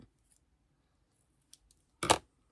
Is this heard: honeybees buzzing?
no